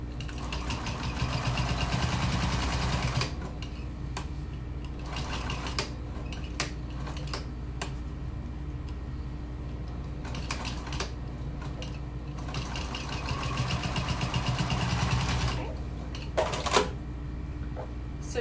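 A sewing machine stitches along the folded edges of a tote bag strap in several bursts of rapid mechanical whirring, separated by quieter pauses and brief handling clicks.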